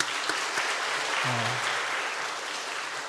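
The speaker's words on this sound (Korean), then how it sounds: "우리 특성한 가정을 박수 한번 쳐주시고" A Sunday church congregation claps for a family, a full, even round of applause from many hands that fills the space, with a brief voice heard partway through.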